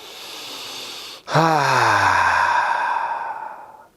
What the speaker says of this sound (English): Take a big inhale through your nose, exhale out your mouth.